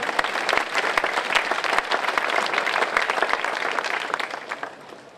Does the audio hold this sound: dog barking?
no